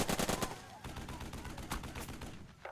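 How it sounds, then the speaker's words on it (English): Rapid bursts of small-arms and machine-gun fire from the WWII tactics game Burden of Command crackle in dense, rhythmic volleys that stay loud and close throughout. "let's gun down this squad a bit"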